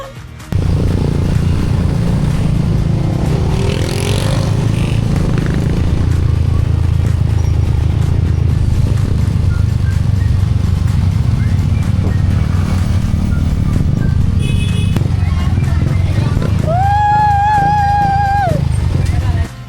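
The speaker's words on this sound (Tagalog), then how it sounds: "ang lalakas ng mga motor nila dito" Motorcycles labor up a steep road in Cebu on the way to a waterfall, their engines a loud, continuous close-up drone. A brief whistle-like tone rises near the end, and voices may be present.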